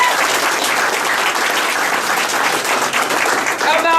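Steady, dense applause fills a company all-hands meeting at PCI, a crowd clapping loudly and continuously throughout with some cheering voices mixed in and a hint of music near the end.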